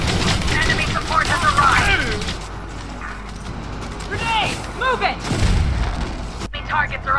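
Repeated bursts of weapon fire in the video game Elite Dangerous: Odyssey, loud impacts and booms scattered through the scene, with a voice talking over much of it.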